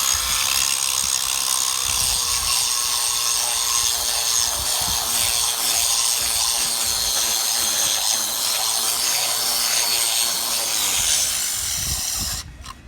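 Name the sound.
power tool cutting into concrete seawall to reach rust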